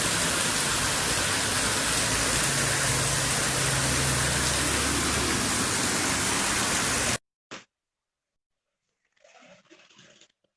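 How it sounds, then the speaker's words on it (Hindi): Heavy rain pours during urban flooding in Karachi, a dense, loud, steady hiss that runs for about seven seconds, then cuts off abruptly into silence broken by a brief click and faint muffled sounds. "बहुत तेज बारिश हो रही है ये गुलजार हिजरी में"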